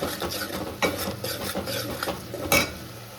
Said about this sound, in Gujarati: તો સરસ રીતે બધું હલાવી નાખીએ